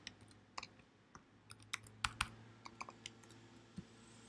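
Typing on a computer keyboard while entering a new password: sparse, irregular key clicks at close range, a few taps louder than the rest, over quiet room tone with no talking.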